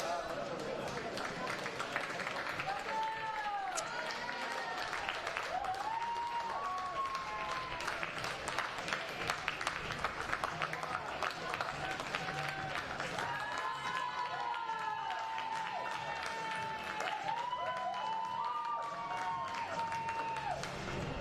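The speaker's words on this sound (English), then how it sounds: "Ladies and gentlemen, let's give a round of applause for these fantastic gentlemen" Stadium crowd at a para-athletics world championship applauding the men's heptathlon athletes, steady distant clapping and murmur throughout while an announcer talks over a public address system.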